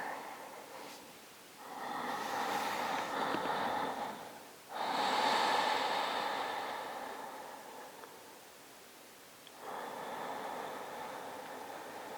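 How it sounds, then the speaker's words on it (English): Slow, deep Ujjayi breaths during a vinyasa yoga session: long, airy inhales and exhales that swell and fade, heard close up and alone, with about three audible breath cycles. "Let's take 3 more deep breaths."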